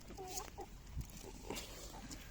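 Chickens in a coop give short, scattered clucks and murmurs, fairly quiet and close, with several birds calling irregularly.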